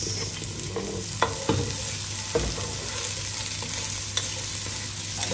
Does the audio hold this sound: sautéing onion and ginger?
yes